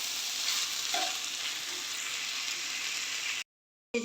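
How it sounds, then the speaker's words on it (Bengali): Rice with spices and potato frying in a wok for hilsa fish pulao: a steady, close hiss of sizzling with soft stirring scrapes, continuing evenly before a brief cut to silence near the end. "আমি এবার চালটা দিয়ে দিয়েছি। এবার এটা ভালো করে হালকা ভেজে নেব"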